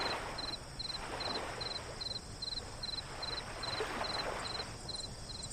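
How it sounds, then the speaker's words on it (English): A cricket chirps in a steady, evenly spaced rhythm of short pulses that runs through the whole stretch, clear and fairly close over soft background noise. "Like now you can hear the cricket."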